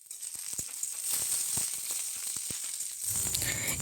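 Potatoes and eggplant fry in oil in a wok, a soft steady sizzle with scattered sharp pops and crackles, close and fairly quiet, swelling into a louder rush near the end.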